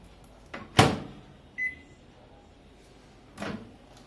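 A Samsung 21 L convection microwave oven, model CE73JD, gives a sharp click from its door or panel, then a short beep, then another softer clunk, each sound isolated in a quiet room.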